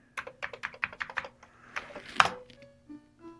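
Fingers type a command on a Commodore 128 keyboard, with a quick run of crisp, close key clicks and one heavier keystroke near the end, followed by a faint tone.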